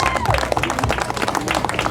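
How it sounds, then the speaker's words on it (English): Audience applause at a political event in Scarborough, brisk clapping from a crowd with sharp individual claps up close and a few voices and cheers mixed in. "Yes, big round of applause."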